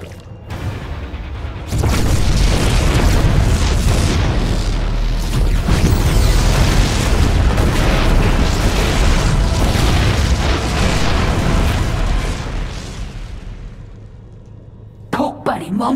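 Continuous loud booming explosions from StarCraft II: Heart of the Swarm, in the mission Enemy Within, roaring as a dense rumbling barrage for about ten seconds before fading, followed by a few short sharp sounds at the end.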